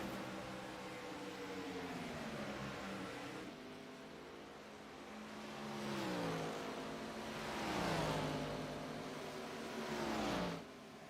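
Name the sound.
race cars driving on track, Integrity OCTANE Series race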